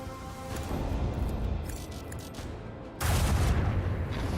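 Heavy rumbling volleys of starship lance battery fire in the video game Rogue Trader, with a sudden louder blast near the end, dense and booming like battle effects.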